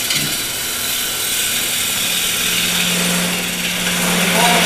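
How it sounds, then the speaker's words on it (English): A traditional ground gouge taking finishing cuts on a wood lathe, cutting at the very tip with a steady, close, hissing scrape against the spinning motor hum for several seconds. "for my finish cuts on there, I'd again go to my traditional ground gouge. And I'm cutting at the very tip"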